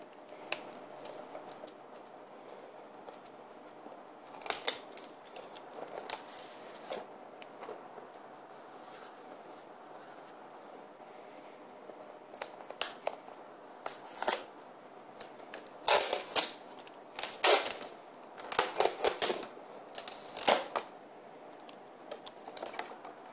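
A GoPro Hero3 Black Edition box is unpacked up close, with scattered crinkles, taps and rustles of packaging coming in irregular bursts that grow busier toward the end.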